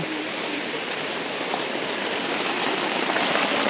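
Steady rain falling in a continuous broadband hiss that grows slightly louder over a few seconds, with no voices.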